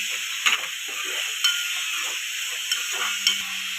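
Tomatoes and a sprig of curry leaves sizzle in a pan, a continuous soft hiss broken by a few sharp clinks of a spoon stirring against the metal, with no voices.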